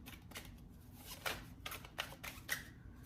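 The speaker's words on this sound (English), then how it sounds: "I shuffle my cards very thoroughly" Tarot cards being shuffled thoroughly by hand, giving a string of soft papery riffles and slaps at a steady, close pace with quiet pauses between them, no talking.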